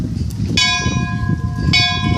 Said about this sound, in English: the bell tolled.